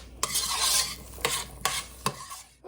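Peppers cooking in a pan for homemade chili, stirred with a utensil: a soft sizzle under a few distinct scraping strokes, close and clear.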